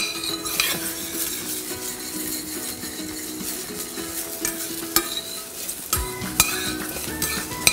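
Vegetables sear hard in a hot pan, with a steady dense sizzle and repeated clinks and scrapes of a utensil stirring against the metal, close up with no talk.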